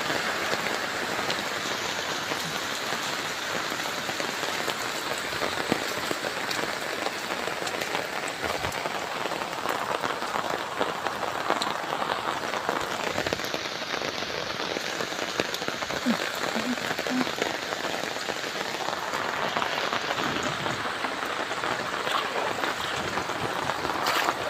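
Heavy rain pours down steadily as a dense, continuous hiss of drops striking surfaces, loud and unbroken throughout with no voices.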